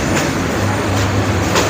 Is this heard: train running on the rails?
yes